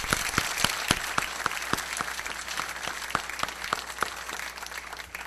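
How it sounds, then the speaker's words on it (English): A press conference audience claps in a sparse, fairly quiet round of applause, individual hand claps standing out in an uneven rhythm for several seconds. "Please give them a round of applause."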